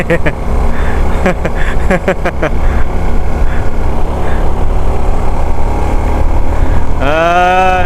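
A friend's motorcycle, running normally again after breaking down during a touring ride, hums under loud nearby talk, and engine revving rises and falls toward the end.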